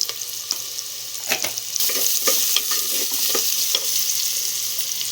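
Chopped tomatoes are stirred in a frying pan for idli tiffin chutney, hissing and sizzling steadily with a few scraping spoon strokes, close up and without talk.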